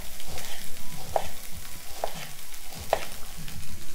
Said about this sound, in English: So just keep stir frying and then let's cut the shallots.